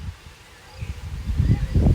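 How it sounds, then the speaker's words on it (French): Gusty west-southwest wind of 50–60 km/h buffeting outdoors, low rumbling blasts that build and surge louder toward the end, with no talking. "Et le vent là, le vent sud-ouest, il a pété un plomb."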